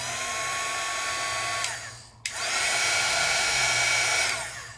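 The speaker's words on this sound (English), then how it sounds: "It's quieter than this one, but this one allows me to get as close as I want without burning my paper or my embossing powder" An embossing heat tool blows with a loud steady whine and rushing air, cutting out briefly and then starting up again, clean and close with no talking.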